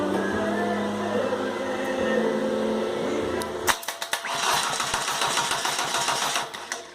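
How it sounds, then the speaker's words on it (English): A TDI diesel engine fitted with a starter and flywheel for a Ford Ranger adapter build cranks over steadily and loudly for several seconds, then the cranking breaks up into uneven mechanical clatter. "And here it is cranking."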